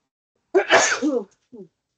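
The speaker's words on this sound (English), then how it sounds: "I sneezed" During a public board meeting, one loud, close sneeze bursts out of silence, followed a moment later by a brief, soft voiced sound.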